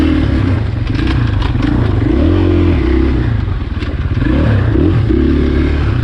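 2020 KTM 500 XCF-W dirt bike riding through trees at Crow Canyon, a loud, close, continuous engine drone that rises and falls with throttle, with clatter and scraping from the trail.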